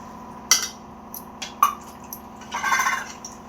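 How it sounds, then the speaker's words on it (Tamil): Water poured into a pan of dry fish curry during cooking, heard as a few drips and splashes followed by a short burst of pouring, close and moderately loud with no talk. "இப்போ குழம்புக்கு தேவையான அளவு தண்ணியை ஊற்றிடலாம்."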